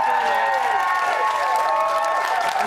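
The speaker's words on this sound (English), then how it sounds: "Give him a round of applause." A television studio audience applauds steadily for a few seconds, a dense wash of clapping with a bright sustained tone running underneath.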